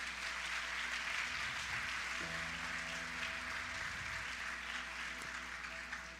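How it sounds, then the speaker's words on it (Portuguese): A church congregation applauds together, a steady and dense wash of clapping that holds for several seconds, with a faint low hum running underneath. "Você pode aplaudir ao Senhor por isso?"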